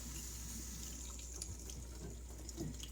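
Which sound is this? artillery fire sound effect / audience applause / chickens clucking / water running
water running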